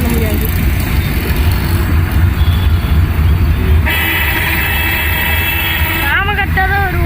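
Congested street traffic in Trichy, with a constant engine rumble and a prominent vehicle horn blaring for several seconds, then quick wavering honks near the end, all loud and close.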